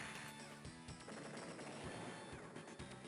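Rapid attack gunfire in the turn-based strategy game Advance Wars 2, dense bursts of shots and impacts filling the whole moment at moderate loudness, with no talking over it.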